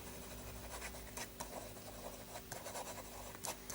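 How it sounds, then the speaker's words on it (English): A Herlitz My Pen Style gel pen writes quickly on paper with light pressure, a faint, close, continuous scratching broken by brief louder strokes, with no talk over it. "Fast writing, you really need very little pressure for this to write well."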